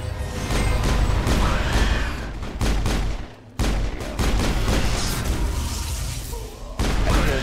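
Automated turrets open fire on Eden Prime in a sci-fi shooter video game, unleashing sustained, loud bursts of rapid gunfire and booms that run almost continuously, with a brief lull midway before the barrage resumes.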